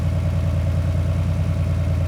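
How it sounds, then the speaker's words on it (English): A 1979 Porsche 911 SC's naturally aspirated flat-six boxer engine idles in a steady, even low rumble, close and loud, with no talking. "This is what gives it the sound that we normally associate with the naturally aspirated flat six"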